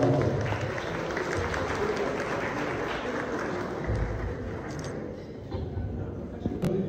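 An audience applauds at an awards ceremony event in Zonguldak, Turkey, with sustained clapping from a crowd that fades slightly toward the end, mixed with speech.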